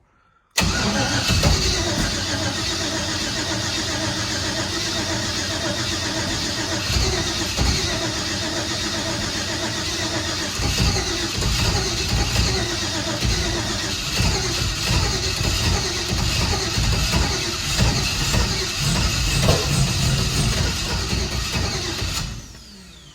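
A junkyard GM LS V8 car engine cranks and catches, then runs roughly and loudly for a long stretch, steady rumble with uneven pulses, close by, before cutting off abruptly.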